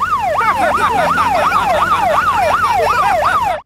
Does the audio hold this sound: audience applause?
no